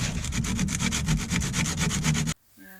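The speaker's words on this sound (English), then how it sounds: "And back to sanding." Resin-strengthened PET foam on a dashboard is sanded by hand in about twenty quick, even back-and-forth strokes of close, loud scratchy rubbing that stop abruptly, leaving near silence.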